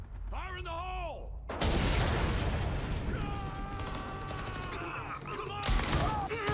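A loud blast erupts in the Homefront: The Revolution shooter after a brief musical-toned call, followed by rumbling debris and scattered gunfire with shouted voices and pitched game tones over the noise.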